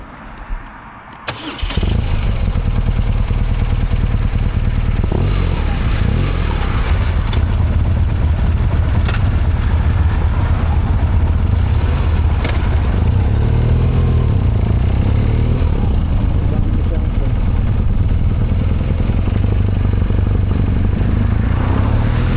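Motorcycle ride picked up by a DJI Action 5's built-in mic: an engine rumbles loud and steady from start to finish after a brief quiet opening, with heavy wind buffeting laid over it.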